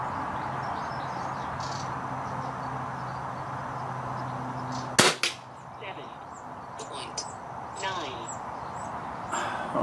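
An air gun fires a single pellet at a target 25 yards away, one sharp crack midway through after a quiet outdoor background with faint birds, followed by stillness.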